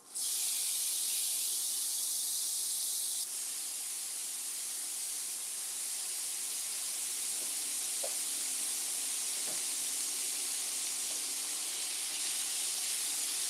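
Thin layer of shredded rutabaga hash browns sizzling in a skillet, a loud, continuous broad hiss that holds steady throughout, with a few faint clinks underneath.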